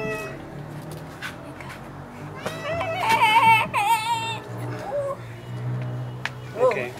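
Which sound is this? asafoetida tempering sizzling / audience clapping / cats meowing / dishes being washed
cats meowing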